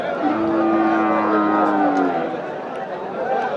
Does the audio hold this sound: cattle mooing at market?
yes